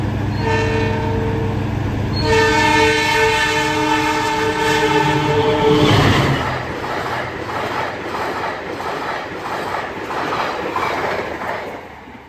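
A train at top speed sounds a long, loud horn blast, then gives way to a heavy, continuous rumble and rattle of wagons rolling along the rails.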